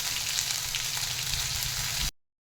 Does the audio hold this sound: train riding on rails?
no